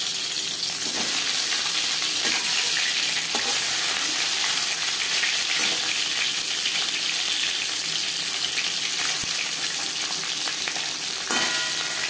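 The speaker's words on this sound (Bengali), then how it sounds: "মাছ ভাজবার জন্য পরিমাণ মতো রিফাইন্ড অয়েল গরম করে নিয়েছি। দিয়ে দেবো মাছের মাথা।" Fish heads frying in hot refined oil in a pan, a steady dense sizzle and crackle running the whole time with a few faint clinks of a utensil stirring.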